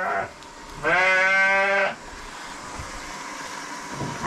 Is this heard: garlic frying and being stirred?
no